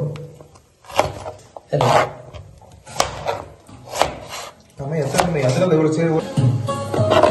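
Knife chopping food on a cutting board while preparing spicy chilli parotta, with bursts of close, rapid cuts separated by short pauses and a longer stretch of steady chopping near the end.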